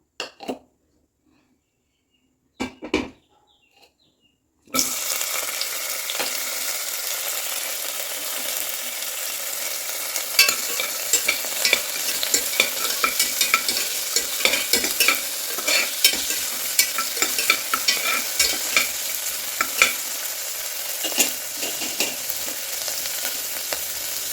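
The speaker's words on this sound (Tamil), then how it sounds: "சும்மா அப்படி காயெல்லாம் வதக்கிக்கலாம்" Near silence with a few clinks, then a loud steady sizzle of tomatoes and onions frying in hot oil in a cooker, crackling continuously with scattered pops and stirring scrapes.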